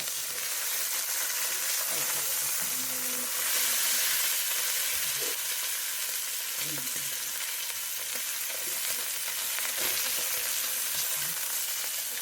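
Beef shank pieces browning in a pan give off a loud, continuous sizzle and hiss, broken now and then by a utensil scraping and a few low clunks.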